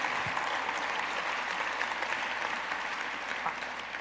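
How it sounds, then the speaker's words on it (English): Audience applause at a civic update by the Seattle mayor and city leaders, a steady wash of clapping from a sizable crowd at moderate level that eases slightly toward the end. "please join me in a round of applause for John and his team"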